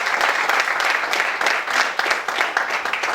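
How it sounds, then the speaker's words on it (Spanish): Church congregation giving warm applause during a service, a full chorus of clapping that swells in slight waves, fairly close and loud with no speech over it. "Démosle un aplauso al Señor."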